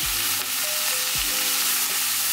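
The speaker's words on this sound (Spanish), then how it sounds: "Vamos a cocinar el chorizo en lo que va a estar la papa para agregarlo." Chorizo fries in a hot skillet with a steady, close, dense sizzle and crackle that continues without pause and without any talking.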